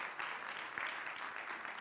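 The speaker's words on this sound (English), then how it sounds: "give the Lord a clap of praise" A church congregation claps together in praise, a dense, steady patter of many hands filling the room at moderate loudness with no voices over it.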